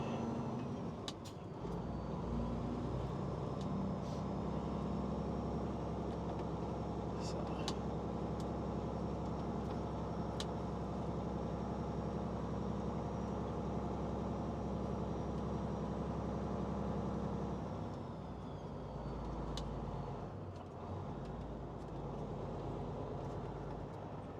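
A loaded truck drives back into town, its engine a steady, low, droning rumble with continuous road noise, close and unbroken, with brief rattles and small clicks.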